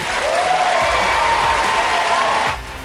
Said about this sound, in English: That cheering and applause continued uninterrupted for at least 15 minutes.